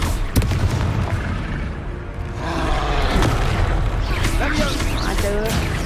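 The Confringo fire spell bursts in Hogwarts Legacy on PlayStation during a fight, with loud booming impacts and rumbling under constant game noise and effects, and a voice is heard over the blasts.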